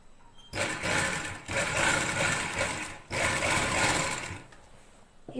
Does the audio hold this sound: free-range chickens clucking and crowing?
no